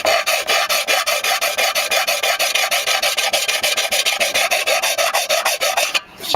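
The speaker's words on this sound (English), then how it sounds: "Sanding off aluminum there" Rhythmic back-and-forth rasping of sandpaper on the aluminum engine cover of a Yamaha V-Max motorcycle, repaired with JB Weld, with steady strokes about twice a second, close and loud, with a brief pause near the end.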